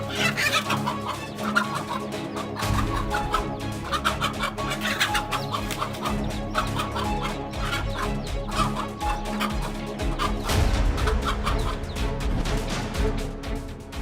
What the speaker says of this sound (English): Let's see how a mother hen protected her chicks against this voracious predator.